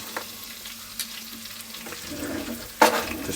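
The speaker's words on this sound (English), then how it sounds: "So we got some ghee going in there, and we're gonna get our onions" Onions going into hot ghee in a pan give a steady soft sizzle with light stirring scrapes, ending in a sharp louder burst of frying near the close.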